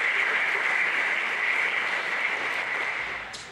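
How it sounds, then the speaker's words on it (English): Steady applause from an audience, a dense wash of clapping that holds for a few seconds and then fades slightly. "one round of applause for each one of these, as Jerry has mentioned"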